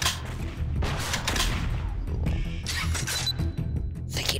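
Weapon fire from the Metro Conflict video game, where a grenade launcher is being used: a continuous, loud barrage of shots and bursts that overlap with little pause.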